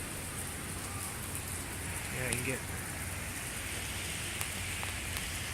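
Rain falls during a rare February thunderstorm in Pennsylvania, a steady, even hiss of drops outdoors, with a voice speaking briefly partway through.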